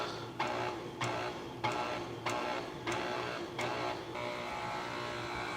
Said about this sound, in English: It's time to carefully mix these ingredients in the mixer.